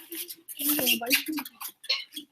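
A person imitates a nursing puppy with rapid wet sucking and clicking mouth sounds, close up, to draw a dog over at a school assistance-dog program.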